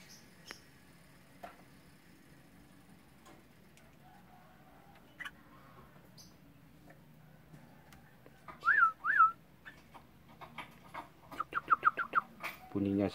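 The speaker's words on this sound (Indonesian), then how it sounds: "Ya, ini adalah burung-burung trucok yang saya coba saya tangkarkan." Captive trucok bulbuls, kept in pairs in a breeding colony, give short whistled calls. They are sparse and faint at first, then bunch into a quick run of bright notes toward the end, with no one speaking.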